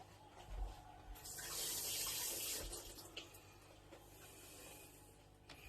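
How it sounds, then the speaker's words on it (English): Hands are washed under a running kitchen tap while cooking spaghetti bolognese, a steady gush of water with rubbing and splashing that swells in the middle, fairly close. "I'm just going to quickly wash my hands"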